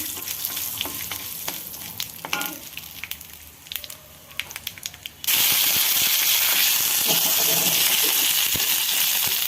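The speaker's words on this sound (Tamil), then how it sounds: "கடுகு பொரிஞ்சிருச்சு" Mustard seeds spluttering in hot oil with urad dal and asafoetida, scattered crackles and pops at first, then a sudden loud, dense sizzle as more is added, steady and close.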